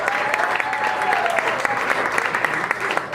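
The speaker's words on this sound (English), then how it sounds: "Can we give our host of the evening a round of applause?" An audience at a jazz benefit show applauds its evening host with sustained clapping from a room full of people, and a voice rises briefly over the applause.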